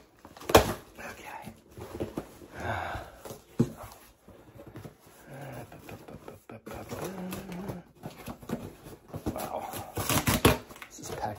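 A cardboard package is ripped open in a close, loud burst of tearing and crinkling, followed by further rustling and handling noises, with a person speaking intermittently.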